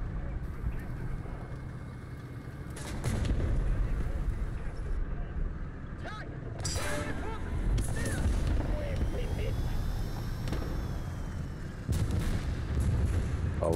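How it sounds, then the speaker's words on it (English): Artillery fire in the War Thunder video game, heard as dull, distant booms and rumbles over continuous engine and battlefield noise, while a person talks over the game audio. "let the artillery land on him"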